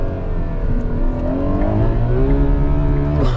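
A Ferrari 12Cilindri V12 accelerates with a smooth, rising engine note heard from inside the cabin, steady and loud with the pitch climbing through the gear.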